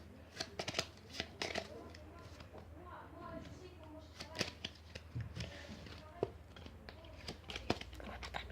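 A deck of playing cards is shuffled close by, with quiet riffling and flicking bursts and soft snaps spread through the stretch, at low overall level.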